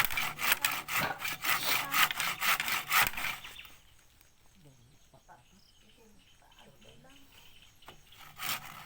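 A hand saw cuts through wood with quick, rhythmic rasping strokes for several seconds, then stops, leaving insects chirping in the background while people talk nearby.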